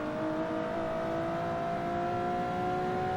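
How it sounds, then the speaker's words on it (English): Nissan 370Z with its VQ37 V6 engine, driven in the racing game Forza Horizon 2, holds a steady loud high-revving drone with strong tonal harmonics, constant and alone with no voices. "Love the sound of that VQ37"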